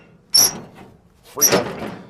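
The deformed sliding door of a 1923 Mack AB truck is forced along its track twice, each pull a harsh scraping, squeaking rasp up close with a thunk at the start.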